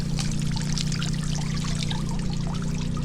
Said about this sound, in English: Just dumping it in there, letting it soak.